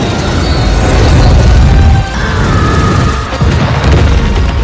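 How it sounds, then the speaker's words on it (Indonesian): A rocket explodes in a loud, rumbling blast in the film Venom, with heavy low booming that swells and rolls on for several seconds, followed by further crashing blasts. "Roketnya pun meledak juga"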